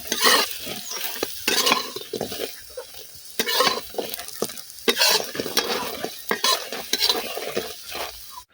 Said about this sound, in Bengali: আবারও 1 ব্যাচে আমি ডালের বড়িগুলো ভেজে নেব।